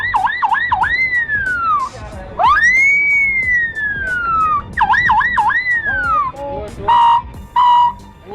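A young boy mimics a police car siren using only his voice and one hand, producing loud, smooth rising and falling wails in repeated cycles, with a long sustained sweep in the middle and short chirping bursts near the end.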